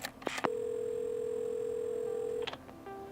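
A steady telephone dial tone in the video game Assemble with Care holds for about two seconds between soft clicks of a handset being picked up, then a short, fainter tone follows.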